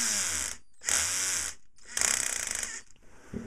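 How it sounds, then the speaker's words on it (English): An antenna rotator motor's torque limiter slips under load on a bench, giving bursts of mechanical whirring and rapid ratcheting clicks in separated spells with short pauses, close and moderately loud, with no talking. "That's the torque limiter coming in."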